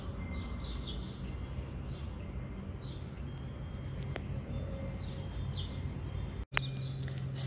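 Small warblers chirp at dawn by a pond among tall pines and blueberry bushes, faint, scattered tweets over a steady low outdoor hum with insect-like buzzing.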